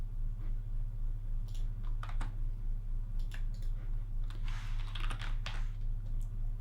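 Light keystrokes on a computer keyboard come in a few quick bursts, faint and close, over a steady low hum with no talking.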